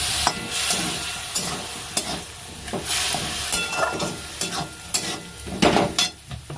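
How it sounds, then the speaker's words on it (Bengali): A spice masala frying in a pan as a little water goes in, with loud sizzling bursts and hissing alongside busy stirring scrapes and clatters, close up and uneven in loudness, with no talk. "সামান্য একটু জল দেবো।"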